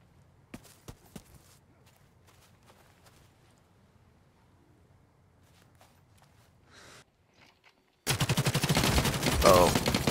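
Rifle fire in the video game The Cycle Frontier comes as a few sharp, close shots early on, then quieter scattered sounds, ending in a loud dense burst of noise.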